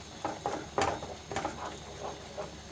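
Masala puree stirred in a pan for paneer mutter masala, heard as soft repeated scraping and clinking of a spoon against the pan in irregular strokes, fairly quiet and close, with no talk.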